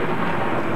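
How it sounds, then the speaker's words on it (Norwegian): A short, loud burst of rumbling thunder from a children's television show fills the moment, broad and continuous with no voices over it. "Litt torden er ingenting å være redd for."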